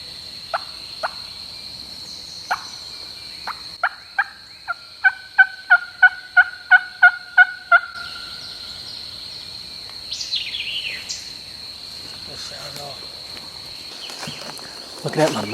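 Wild turkey gobbling far off in a Georgia swamp on public land, faint and distant, following a quick series of sharp, rhythmic yelps from a hunter's call that build in loudness.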